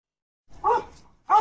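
A dog barks at a package thief on a porch in San Antonio, Texas, two sharp close barks separated by a short pause.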